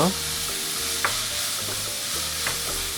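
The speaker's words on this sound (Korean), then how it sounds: "소스가 골고루 섞이도록 잠시 섞어 볶아주세요." Tofu and sauce stir-fried in a pan, a steady loud sizzle broken by a few sharp scrapes and stirring clacks, with no talking.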